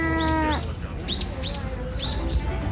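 Several bird chirps and short rising calls at a zoo, close and clear, repeating every half second or so over low crowd and ambient noise, after an opening steady tonal call.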